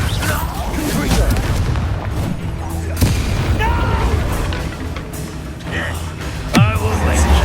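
Fire-spell explosions from the video game Hogwarts Legacy, a run of booming blasts and bursts over continuous combat sounds, with characters shouting throughout.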